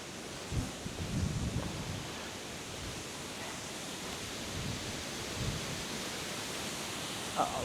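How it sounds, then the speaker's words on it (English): A stream flows near a waterfall in the Yorkshire Dales, giving a steady, even rush of water with a few soft swells and some wind-like rustle. It runs alone throughout, with no voices. "I can hear water this way,"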